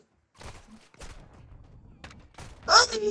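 Gunshots from the video game Modern Warfare II crack in scattered bursts, separated by short gaps, and the loudest burst comes near the end.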